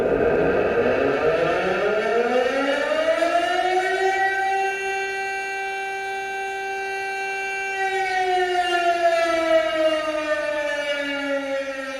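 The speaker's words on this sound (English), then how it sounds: "Siren on the coast." Coastal civil defense siren from Battlefield 4, a loud wailing tone rich in harmonics that climbs in pitch, holds steady, then slowly falls away, heard alone with no talk.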